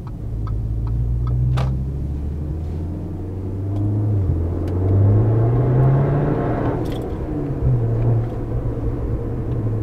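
A tuned Audi A4 pulls hard under acceleration, its engine rumble climbing steadily in pitch across the run, loud and close from inside the cabin, with no talking.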